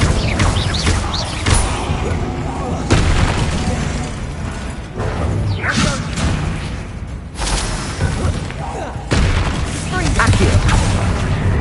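Repeated Incendio fire spells cast in Hogwarts Legacy, loud bursting whooshes and crashes arriving in several waves amid busy combat clatter, with a voice speaking over the action.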